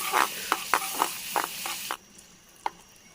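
Butter melts in a pan over an outdoor cooking fire in the forest, giving a soft, faint sizzle dotted with sharp spitting pops that fade after a couple of seconds, leaving a quiet hiss and one last pop.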